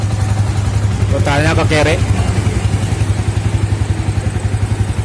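An old Yamaha Vixion motorcycle engine idles cold at a steady, pulsing low rumble while its RPM is adjusted, with someone speaking briefly over it.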